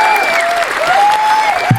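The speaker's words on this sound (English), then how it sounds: "Get a round of applause for that." Applause in a podcast studio: brief clapping from a small group, heard close and fairly loud, with a sustained tone running underneath.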